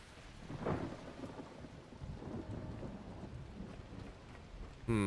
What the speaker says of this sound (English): The freaking lightning bolt noise.